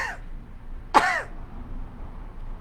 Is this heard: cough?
yes